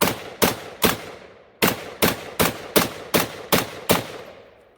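SKS semi-automatic rifle firing about ten loud, close gunshots in two quick strings, each blast with a short echoing tail.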